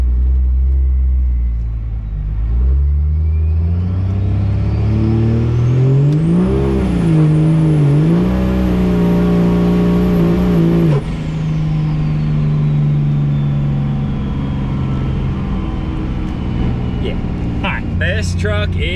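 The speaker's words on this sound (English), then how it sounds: "We had to get that turbo spooled up a little bit" A 1000-horsepower Cummins diesel truck accelerates hard, its deep engine roar climbing as the turbo spools up into a rising high whistle, holding loud and close before easing off as the whine fades.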